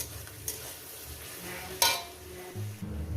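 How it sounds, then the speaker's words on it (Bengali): Jute greens frying with turmeric in a pan give off a low steady sizzle, broken by one sharp clank of a utensil against the pan and some stirring scrapes toward the end, close by and without speech. "এই ভাজাটাকে একটু হলুদ দিয়ে ভাজবো"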